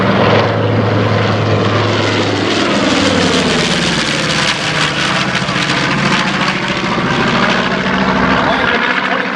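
A propeller bomber roars past close by at Paine Field Aviation Day air show, its deep engine drone rising and then shifting in pitch as it passes and moves away.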